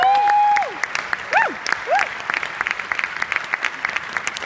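Steady audience applause at an academic award ceremony fills the room as a continuous patter of many hands, with whoops rising over it and then fading toward the end.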